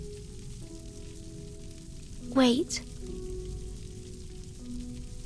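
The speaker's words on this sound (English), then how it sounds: "Is that rain I hear?" Steady soft hiss of rain falling in the video game Reverse: 1999, running beneath quiet tonal game music, with a brief spoken word and a sharp swooping effect near the middle.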